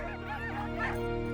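Inuit sled dogs in the Arctic bark briefly, a few faint, distant yaps over a steady background hum.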